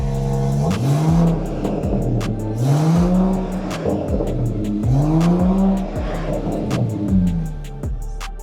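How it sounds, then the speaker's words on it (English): A Mercedes-Benz GLE450 with an inline-six turbo and an FI aftermarket exhaust revs repeatedly, loud and close, each throttle blip rising into a deep, rasping swell and falling back to a rumbling idle, with crackles between the revs. "let me give the FI exhaust a couple of revs and see the difference"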